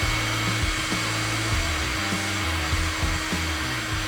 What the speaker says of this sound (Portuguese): Secador termo.